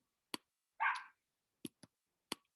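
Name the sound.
dog barking outside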